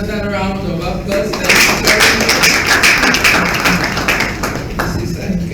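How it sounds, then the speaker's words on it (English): Applause ripples through a conference audience at a tourism event in Nigeria. A dense wash of clapping swells after a voice speaks, then holds steady and loud. "Another round of applause."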